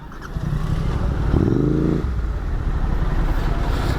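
A motorcycle fitted with a Red Rooster exhaust idles in traffic, giving a steady, close, low rumble with a brief tonal swell partway through and surrounding road noise.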